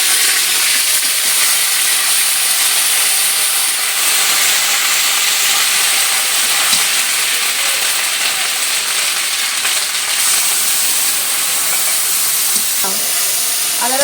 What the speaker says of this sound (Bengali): আদা রসুন বাটাটা দিয়ে দিই।